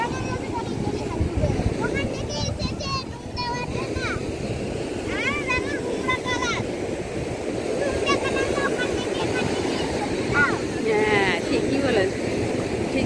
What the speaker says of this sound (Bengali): এত জোরে ঢেউ এসেছে পুরো ভিজে গেছি